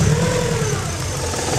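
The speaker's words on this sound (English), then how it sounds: "Do you have an EJ Subaru engine that idles funny like this?" Subaru EJ boxer engine idling unevenly with a faulty, dirty idle air control valve: a steady, loud low rumble close by with a slight wavering in the idle speed, and no voices.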